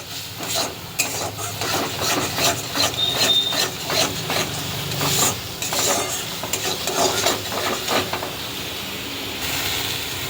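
A spice paste with ground coriander and chilli powder sizzles in a pan while a spoon stirs it and scrapes the bottom in uneven strokes, close and fairly loud, with no talking.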